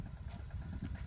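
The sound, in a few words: tractor engine running in a cotton field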